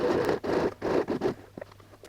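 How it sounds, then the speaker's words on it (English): A zipper is pulled and handled against fabric while a laptop case is being sewn, close up. Several short rasping strokes come in quick succession, then lighter scratches follow, and no one talks. "Just aligning the zipper to the edge of the fabric"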